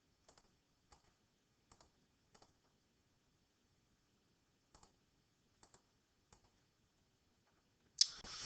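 Calculator keys are pressed while data is typed in, producing faint, close plastic clicks, mostly in quick pairs, spaced out over several seconds against near silence.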